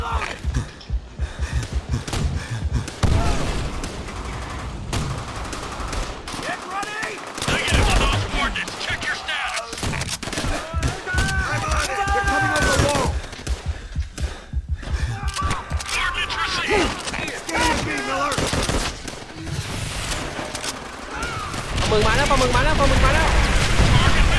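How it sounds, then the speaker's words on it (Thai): Gunfire and explosions in the video game Call of Duty: World at War, with bursts of shots and booming blasts mixed with game music and chatter, under near continuous talking from players. "ลองโดนยิงครับพี่ เดี๋ยวพี่หมอบอยู่ไว้เลย"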